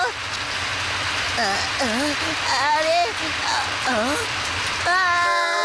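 Rain falling in a Ninja Hattori cartoon: a constant loud hiss of downpour underneath animated characters' voices, stopping abruptly near the end.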